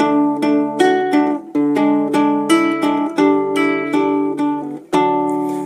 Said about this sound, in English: So that's what it would sound like with the pedal point.